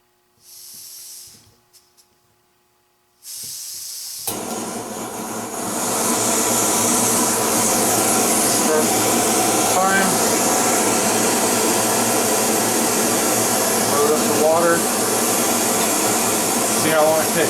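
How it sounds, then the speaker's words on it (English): A backpacking stove from Amazon clicks through ignition, then its burner catches with a loud, steady roaring hiss that holds constant and close for many seconds after a brief quiet start. "So we're going to go ahead and turn this on."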